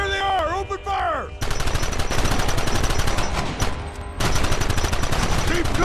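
Dense, rapid gunfire from a shootout in Red Dead Redemption, with bursts of many shots overlapping loudly for several seconds, alongside a brief whistling sweep at the start and some shouting voices.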